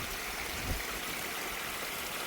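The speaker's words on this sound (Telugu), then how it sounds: "అది కాక ఇంక ఎక్స్ట్రా నీళ్ళు మళ్ళీ మా దాంట్లోకి పోతున్నాయి ఇవి" Excess water spilling from a higher paddy field into a lower one after unseasonal rains, a faint steady trickling flow heard alone without pause.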